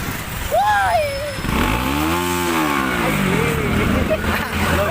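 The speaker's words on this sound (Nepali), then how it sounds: "सो गाइस बाइकको साउन्ड सुन्यो" A motorcycle engine on a bike ride revs up to a loud peak and falls back once, close by, over a steady idle and background noise.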